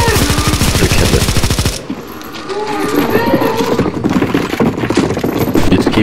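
Rapid automatic gunfire aimed at a boss in the CS:GO Zombie Escape mod, stage 3 of ze_necromanteion_v3_1. A dense close burst of shots breaks off briefly, then the firing resumes and keeps going.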